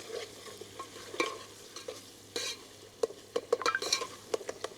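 Onions sizzle and crackle in a frying pan at a fish-hunting camp, with utensil scrapes and clinks as they are stirred, the frying steady and close with sharper clatters toward the end.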